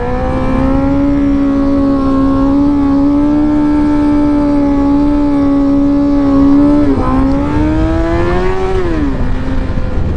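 A motorcycle engine runs loud and close with a steady droning idle, then the revs climb and dip in a short throttle blip near the end, with no talk over it.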